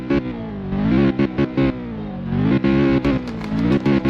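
A supercar engine in the driving game Realistic Car Driving is revved hard, a loud, buzzing roar that climbs and falls in repeated surges. Near the end come choppy, stuttering bursts, like bouncing off the limiter.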